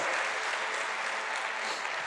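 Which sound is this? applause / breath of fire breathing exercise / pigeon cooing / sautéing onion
applause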